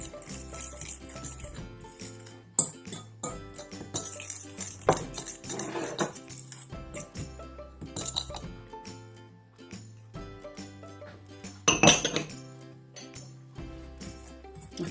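Almond extract being stirred into a Congress tart mixture in a bowl: a utensil scrapes and clinks against the bowl in irregular bursts, close and fairly quiet, with one sharper clink near the end.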